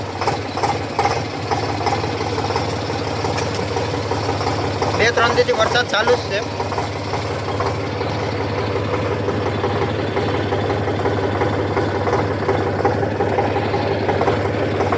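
A tractor engine idles steadily for about fifteen seconds with a deep droning hum and low knocking pulse, close by in a rain-soaked field, while someone talks over it.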